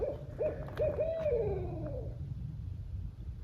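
A few soft owl hoots repeat in quick succession over low background rumble, fairly faint and somewhat distant, on a turkey hunt.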